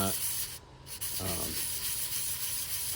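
Sandpaper rubbed in circles over a small RV wheel bearing part, a steady close raspy scrubbing with a brief pause near the start.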